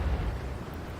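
A tank shell from a T110E5 battle slams low into the dirt, a deep rumbling blast that rolls on as a steady low roar for about a second, loud and close.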